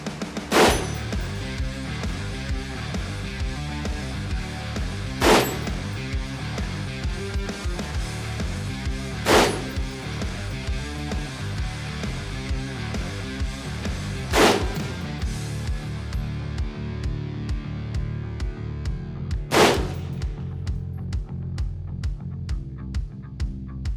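Rifles fire at an Army shooting range as five sharp, isolated cracks spaced several seconds apart, each cutting above a steady, humming background.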